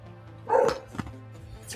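A dog gives a couple of short, fairly faint barks indoors, one near the middle and another at the very end, with quiet background in between.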